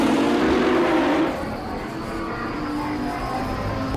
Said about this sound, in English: SUV, it can accelerate like that.